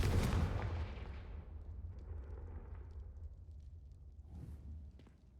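A spell-cast explosion from a Harry Potter game bursts loudly at the start, followed by a long, rumbling decay and crackling debris that fades over several seconds.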